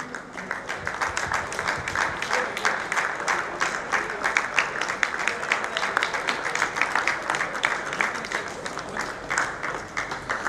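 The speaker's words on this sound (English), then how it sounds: "A round of applause for our runners-up in plate." A crowd at a club cricket finals day applauds the runners-up on stage, with continuous dense clapping at an even level for about ten seconds. No voices stand out.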